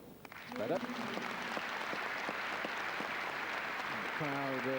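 A tennis crowd at a women's match in Linz, 1993, claps steadily to encourage the Spanish player, a moderate, sustained patter heard at some distance, with brief voices and tonal calls at the start and end.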